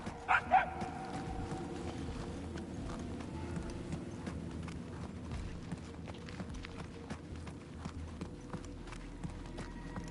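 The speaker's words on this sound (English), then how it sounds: "The barks are getting louder, at least." Distant dog barks echo through a scene in the game Marvel's Guardians of the Galaxy, mixed with a busy patter of clattering footsteps and small knocks.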